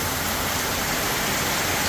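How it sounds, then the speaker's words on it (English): Heavy rain pours without a break after Cyclone Jasper, a loud, steady wash of water that includes runoff streaming off an awning, filling the whole scene with no talk. "That's a lot of rain."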